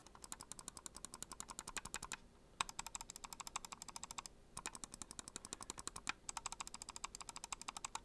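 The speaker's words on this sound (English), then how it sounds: "these guys are actually rated for 80 million clicks and they sound a little something" Glorious Model I gaming mouse switches are clicked in rapid, steady bursts, each run of crisp clicks separated by brief pauses, close and fairly quiet, with no voices.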